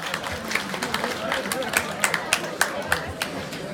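Audience clapping in a community quiz setting gives scattered, sharp claps over murmuring voices, brief and moderately loud.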